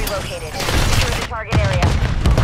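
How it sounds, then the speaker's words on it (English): Rapid bursts of automatic gunfire in Call of Duty Modern Warfare 3, loud and close, with voices calling out over the shooting and a brief dip in the middle. "Taking effective fire"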